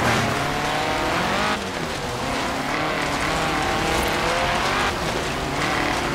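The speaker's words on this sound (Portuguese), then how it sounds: "Esse carro, cara, é difícil de controlar ele. Ele derrapa muito, né?" A 2016 Ariel Nomad racing on a rally course in Forza Horizon 3, with a loud sustained engine drone and continuous tire scrub and skid noise filling the whole stretch.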